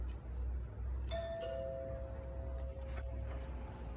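A newly installed doorbell chimes twice in a house under renovation, two bright ding-dong tones ringing out and decaying slowly over a low steady hum.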